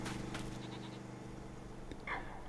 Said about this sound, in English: And here is one of our lovely goats.